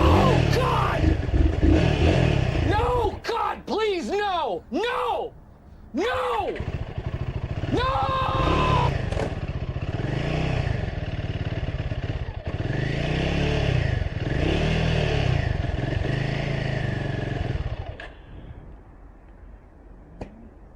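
A motorcycle engine runs nearby with repeated revs rising and falling, a steady loud drone throughout before fading near the end, with voices heard at the start.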